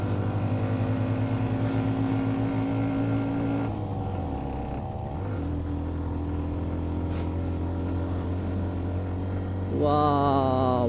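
A Hero Xtreme motorcycle engine on a steep road near Sajek drops from third gear to second. Its loud, steady hum dips in pitch around the shift, then the revs climb sharply near the end.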